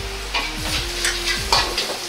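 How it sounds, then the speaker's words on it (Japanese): Garlic and ginger stir-fry in a tablespoon of oil over low heat in a pot for a Chinese rice bowl, with a soft sizzle under quick scraping strokes of a spatula, several short stirring sweeps close up. "ニンニク生姜を弱火で香りが出るように炒めます。"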